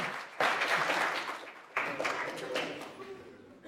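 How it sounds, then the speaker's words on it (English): A round of clapping from the audience at a city council meeting, starting abruptly, fading, then swelling again in a second burst, moderately loud and fairly close. "can we give him a round of applause?"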